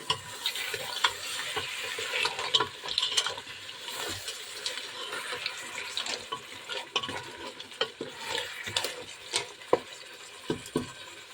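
A utensil scrapes and clicks against a pan as food is stirred, with an intermittent light sizzle underneath; no voices.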